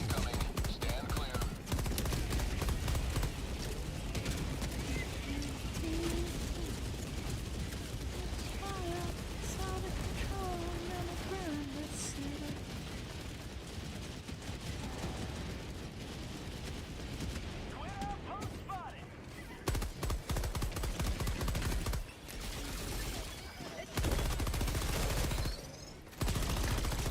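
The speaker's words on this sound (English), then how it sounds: "Requesting orbital. Orbital barrage incoming. Stand clear." Orbital barrage strike in the Helldivers 2 video game: a dense, loud, continuous roar of explosions and rapid gunfire with mechanical clatter, dropping out briefly near the end, voices occasionally under the din.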